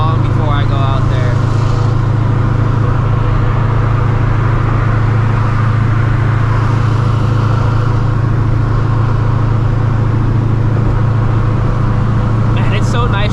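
A supercharged New Edge Ford Mustang GT cruising on a highway at 1 AM, its engine holding a steady, loud low drone with road rumble and no clear speech.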